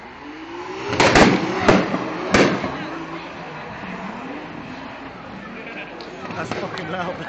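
A turbocharged BMW E36 M3 drifting at a track event, its engine note swinging up and down while three loud, sharp backfire cracks go off in quick succession near the start, followed by steadier engine roar and a few lighter pops.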